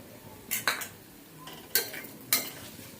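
A spoon stirs vegetables in a pan with pav bhaji masala and red chilli powder, giving a few sharp, close metallic clinks and scrapes against quiet frying.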